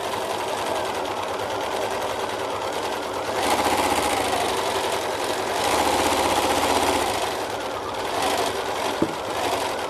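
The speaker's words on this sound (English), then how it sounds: "I'm moving faster than the machine can stitch" A sewing machine stitching in one continuous run, a dense mechanical whir that speeds up and grows louder in a couple of surges before settling back.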